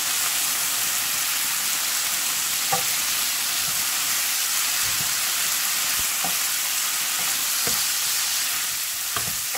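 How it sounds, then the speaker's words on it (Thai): Pork stir-fried with a little sugar and fish sauce sizzles steadily in a hot pan, a dense continuous frying hiss with occasional sharp spatula scrapes and clicks, close and fairly loud with no talking. "ผัดให้เข้ากันเลย"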